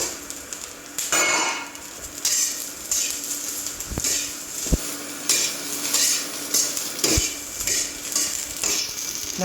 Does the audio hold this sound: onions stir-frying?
yes